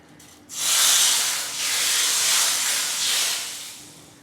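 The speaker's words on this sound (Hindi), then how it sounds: "इस पर हमने अजवाइन और घी को पोर किया है और इसे कवर कर दिया है आधी मिनट के लिए।" Hot ghee tempered with ajwain poured over cooked chhole, giving a loud, steady sizzling hiss that bursts in suddenly, then swells and eases in waves as it keeps frying.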